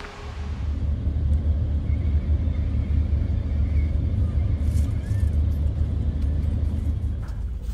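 Vehicles, including tour buses, driving off the parking deck of a ferry at night, a steady loud engine rumble under a faint, echoing background of machinery.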